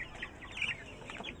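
Young chicks cluck and peep in soft, scattered calls, faint and close with no talk.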